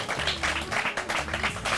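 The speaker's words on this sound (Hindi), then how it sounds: "जोरदार तालियां हो जाए इनके लिए।" A live audience at a village event claps in a short burst. The applause is fairly faint and sounds as if it is heard from a little way off.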